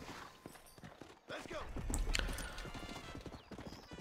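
Horse hooves clip-clopping in Red Dead Redemption, a steady rhythm of close hoofbeats with a brief whinny partway through, playing over soft game ambience.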